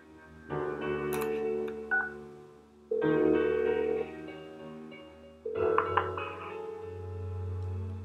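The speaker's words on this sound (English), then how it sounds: "Give her another call." Phone dialing tones in Persona 4 Golden, three separate bursts of tonal beeps with short gaps between them, clear and close.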